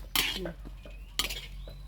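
Two bursts of metal scraping and stirring in a pan as fermented fish paste stir-fries, a utensil clinking against the sides over a faint background hum.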